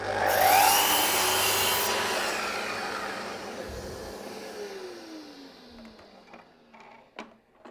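Wooden part of a dovetailed puzzle box being trimmed with a power tool: a loud, close whirring cut for about two seconds that winds down and fades, followed by a few faint knocks, with no talking.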